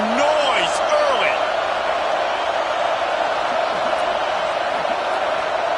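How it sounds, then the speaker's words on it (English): Steady roar of a football stadium crowd at a Georgia vs FSU game, loud and continuous with occasional shouts and whoops rising out of the dense wash of noise. "This crowd bringing the energy and noise early."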